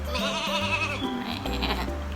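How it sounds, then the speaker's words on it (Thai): A sheep bleat sound effect played from a phone sound-effects app: a couple of wavering, nasal bleats in quick succession, loud and alone without talking. "แกะนะคะ"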